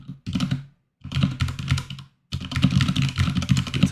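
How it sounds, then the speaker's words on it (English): Typing on a computer keyboard in three quick bursts of rapid, close key clicks separated by brief pauses. "I'll just type a little note out here so that's evident."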